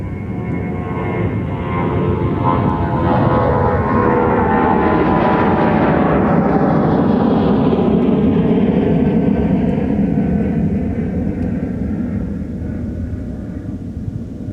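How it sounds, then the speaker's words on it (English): A jet airliner departing MSP airport roars loudly and steadily overhead, its engine noise swelling to a peak midway and then slowly fading as it climbs away. "here's our Smurf plane outbound to Cincinnati"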